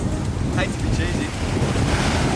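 Strong wind roars across the microphone over the steady wash of ocean waves at a beach during a swim, loud and constant for the whole stretch with no talking.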